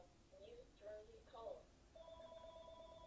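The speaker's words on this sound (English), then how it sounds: "That's the phone." A telephone rings in a quiet room, faint electronic trills at first and then a steady sustained ring over a low background murmur.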